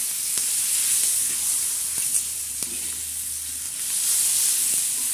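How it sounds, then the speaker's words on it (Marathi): Green chillies frying in hot oil without any gram flour coating, giving a steady close sizzle and hiss with a few small pops and crackles throughout, no talking. "हे बघा आपल्या मिरच्या खमंग मस्त तळायचा."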